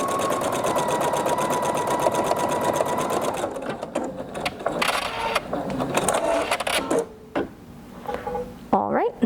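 Sapphire 85 embroidery sewing machine stitching a heart outline, a fast steady mechanical whir for a few seconds, then stopping, followed by clicks, handling noises and talk.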